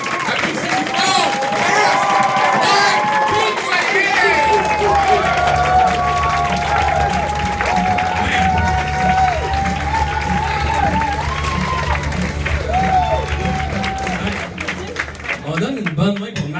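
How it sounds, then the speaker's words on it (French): A comedy-show audience claps and cheers loudly, with whoops and shouted voices riding over the dense applause and a rhythmic low thumping, before it thins out toward the end. "Applaudissez fort."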